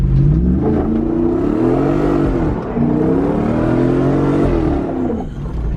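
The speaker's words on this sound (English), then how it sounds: "four-wheel burnouts and donuts are about to occur" A Jeep engine revs hard in long rising and falling surges during four-wheel burnouts and donuts, loud and close, with tires spinning and no talking.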